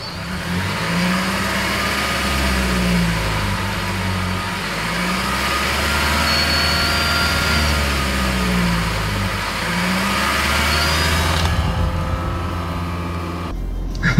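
A 2014 Lexus CT 200h F Sport hybrid accelerates hard on a track, its engine droning steadily and rising and falling in pitch through the gears, close and loud throughout.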